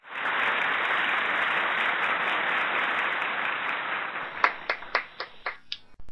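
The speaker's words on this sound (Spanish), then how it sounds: "La Capelletini, lo recibimos con un aplauso." Studio audience applause on a live Argentine TV variety show, a dense steady clapping wash that fills most of the clip and then breaks into a few scattered last claps.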